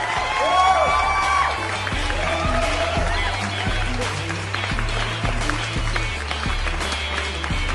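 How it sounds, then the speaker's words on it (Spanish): A church congregation applauding and cheering, steady dense clapping mixed with shouts and whoops throughout, loud and close in a large room, with a few voices rising above the crowd. "Alégrate, iglesia, aplaude, haz una bulla y celebra a Dios."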